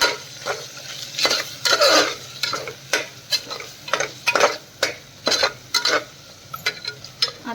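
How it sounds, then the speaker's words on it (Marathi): Turmeric and salt frying in a pan at home, with repeated scraping stirs of a spatula against the metal over a steady background sizzle, close and moderately loud, no talking. "हे मीठ आणि हे छान फ्राय करून घेते"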